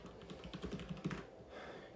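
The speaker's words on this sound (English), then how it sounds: "You hear how loud my keyboard is?" Clicky typing on a loud computer keyboard: a quick run of close keystrokes for about a second, then a quieter pause, with no talking.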